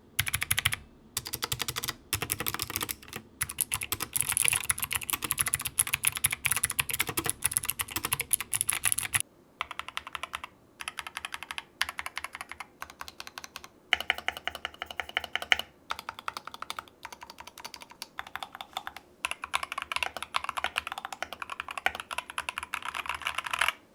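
Steady mechanical key clacks from a fully modded GK61 keyboard, first a denser, louder run of typing, then after a short gap a second, slightly softer and more scattered run, close and alone with no voices.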